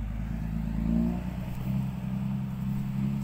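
A tractor engine runs close by at a construction site for a house plot near a river, a low rumbling hum with slight rises and falls in revs.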